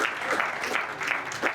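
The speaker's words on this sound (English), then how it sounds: "Let them clap hands for you." Audience clapping for an honoree at a book launch, steady dense applause filling the whole moment, with faint voices mixed in.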